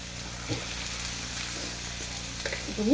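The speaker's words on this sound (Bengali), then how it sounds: "এভাবে ফুলকপিটাকে মশলার সাথে কষে নেবো।" Cauliflower fries in oil with fried garlic, chopped onion and spices, giving a steady close sizzle with a few soft stirring scrapes and clinks.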